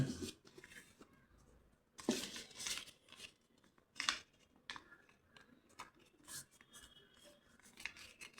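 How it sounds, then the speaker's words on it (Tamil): A sheet of drawing paper being folded as small as possible gives intermittent crisp crinkles and rustling bursts, close and fairly quiet, with irregular gaps between the louder creases. "நான் ஒன் சைடு பேப்பரில் தான் வரைஞ்சிருக்கேன் மடிச்சுக்கோங்க இதை"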